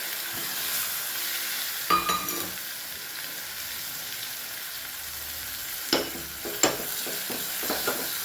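Hot oil holds a steady soft sizzle in a pan after mustard seeds, curry leaves, asafoetida, cut onion and tomato go into the tempering. A few sharp pops and utensil clicks rise above the continuous frying hiss, with no talking.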